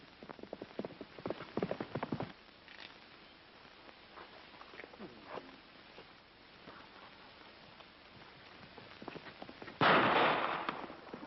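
Hooves clip-clop in a loose, uneven rhythm at a moderate distance, faint over a rough outdoor background, with a sudden loud burst of noise near the end.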